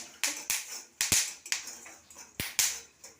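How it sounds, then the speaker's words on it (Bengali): Pumpkin seeds dry-roasting with turmeric and salt in a hot pan, giving sharp, irregular pops and crackles, roughly a dozen snapping bursts close by with quiet gaps between, no voices. "ফটফট করে ছিটকে যাচ্ছে ঢাকা দিয়ে ভাজবো"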